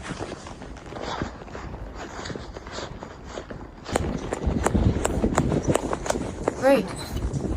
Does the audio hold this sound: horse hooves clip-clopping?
yes